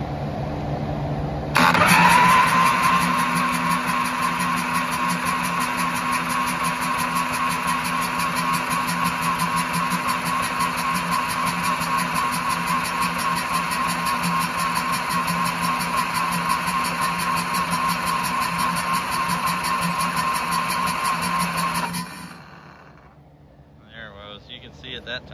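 A 1979 Harley-Davidson Shovelhead FLH engine cranked over by a jumped starter, a loud steady whirring drone that runs for about twenty seconds, then cuts off abruptly.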